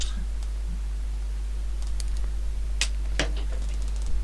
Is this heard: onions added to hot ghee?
no